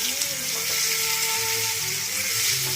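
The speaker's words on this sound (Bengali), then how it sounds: "আর এটা আলু কিছুটা ভেজে নিচ্ছে" Potatoes frying in a pan, a dense, steady hiss of sizzling oil that stays loud and even throughout, with faint background music underneath.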